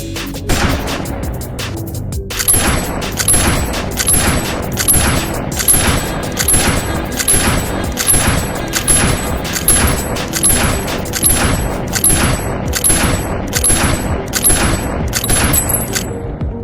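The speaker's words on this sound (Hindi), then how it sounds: "इस तरह फुली ऑटोमेटिक मोड पर राइफल तब तक फायर करती रहती है जब तक ट्रिगर को रिलीज नहीं कर दिया जाता" An AK-47 rifle firing on full automatic, loud sustained bursts of rapid shots in an even rhythm, starting after a couple of seconds and continuing to the end.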